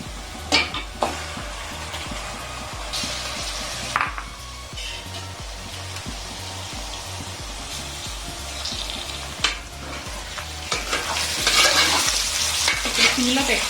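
Chicken frying with golden onions in a pan for Andhra-style dum biryani, a loud close sizzle running throughout with repeated stirring scrapes and occasional clanks of the spoon against the pan, and no voice.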